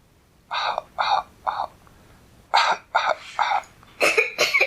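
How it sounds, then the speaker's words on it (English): A string of short, sharp coughs, several in quick bursts with brief pauses between them, close and fairly loud. "Francine began to cough"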